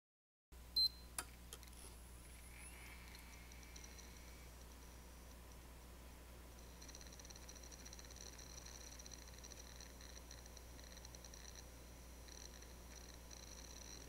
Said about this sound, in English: It's actually the spinning disc, because moving parts do make noises